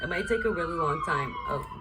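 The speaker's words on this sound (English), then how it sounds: "sorry about the sirens" Sirens pass outside, wailing steadily in the background with a tone sliding slowly downward, while a person talks over them close by.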